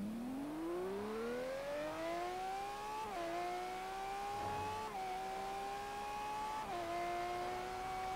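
Car engine in Forza Horizon 3 driven at full throttle, revving up in a rising whine through the gears with brief dips at each shift, loud and continuous with no voices.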